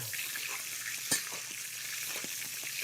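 Steak searing in a pan with butter and garlic gives a steady, close sizzle throughout, broken by a sharp utensil clink about a third of the way in and a couple of softer taps later.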